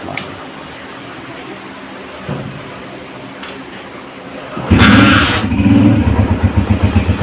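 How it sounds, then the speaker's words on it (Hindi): After quiet background and a few small clicks, a restored 2016 Honda CG125 motorcycle engine cranks and fires up loudly, then settles into a close, rhythmic, pulsing idle. "ये बाइक मैंने स्टार्ट कर दी है, माशाल्लाह साउंड भी बहुत प्यारा है।"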